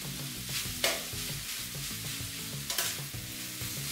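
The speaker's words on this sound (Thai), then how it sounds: "ผัดจนวุ้นเส้นเริ่มสุกนะครับ ตามด้วยกะหล่ำปลีนะครับ" Glass noodles and cabbage stir-fry in a pan with a constant close sizzle, broken by clattering scrapes of stirring and a couple of sharper hisses as food is tossed.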